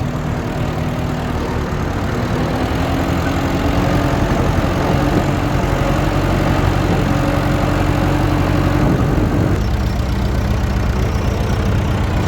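A tractor engine idles close by in a steady low rumble with a faint rhythmic knock, holding an even level throughout with a slight change in tone near the end; no voices.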